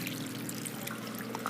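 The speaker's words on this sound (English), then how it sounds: "The water goes down this rain gutter." Water from a hydroponics setup drains down a rain gutter, a faint continuous trickling and pouring flow with soft splashes, steady and close throughout.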